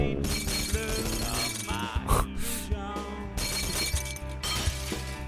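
Glass bottles shattering in the Happy Wheels video game, several sharp breaking crashes bursting out over busy game music, one loud smash standing out in the middle.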